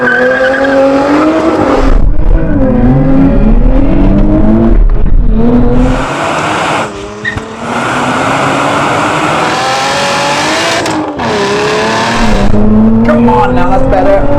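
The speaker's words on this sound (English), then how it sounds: "I am going to launch it with the launch control" A car launched with launch control in a drag race of Nissan Z, Porsche GT4 RS, Toyota Supra and Lotus Emira, a loud, close engine climbing through rising revs with brief gaps at gear changes and tire squeal.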